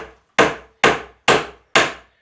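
Four loud, sharp hammer blows drive nails into wooden rafter ties on an off-grid cabin build, evenly spaced with brief silent gaps between strikes, close and alone.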